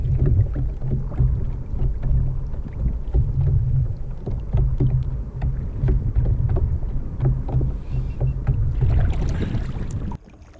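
Choppy water slaps steadily against the hull of a 3 Waters Big Fish 120 kayak under gusty wind rumble, an irregular stream of splashes close by.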